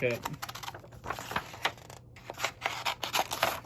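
Scissors snip through printed sublimation designs for glitter keychains, a quick run of close, crisp cuts and paper rustles with some low background noise.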